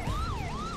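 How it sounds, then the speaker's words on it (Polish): A police car horn siren from the racing video game The Crew 2 gives two quick rising and falling wails, loud and steady, heard alone without talk. "i teraz cały czas cisnę sobie klakson, dzięki czemu mam tak jakby samochód policyjny, nie? Mam syreny"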